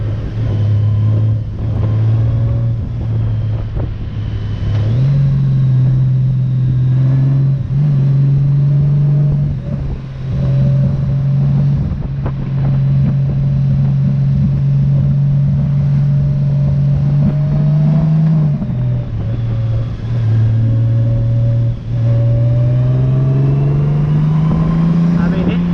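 2022 Honda Goldwing DCT Tour motorcycle riding up a mountain road, a steady loud engine drone with rising pitch and several audible automatic gear shifts, under wind noise and a rider's occasional speech.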